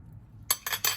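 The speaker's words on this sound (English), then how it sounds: "I'm just gonna get a spoon and put a little bit on the orange" A metal spoon scraping and clinking three times in quick succession while scooping rim paste onto an orange slice, close and crisp against a quiet background.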